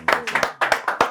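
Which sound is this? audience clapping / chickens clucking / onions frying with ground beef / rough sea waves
audience clapping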